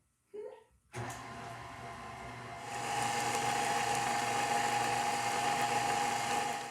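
An electric mixer beats cake batter for a coffee cake after an egg is added, starting with a brief rattle and then running as a loud, steady whir that rises in pitch partway through and holds to the end.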